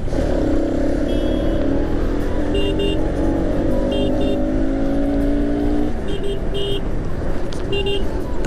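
A truck rumbles along a road with a loud, steady engine drone and rising harmonic whine throughout, joined by a few short, high horn toots near and far; a voice speaks briefly over the traffic.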